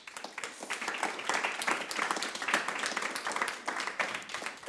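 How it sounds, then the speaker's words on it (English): An audience applauds at the end of a lecture in Amsterdam, a dense, sustained clapping that holds steady for several seconds. "A big applause."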